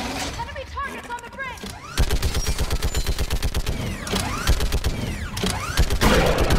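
A mounted gun in the Mass Effect 3 video game fires in rapid, steady bursts with a mechanical clatter, loud and continuous, following a stretch of battle noise and other effects.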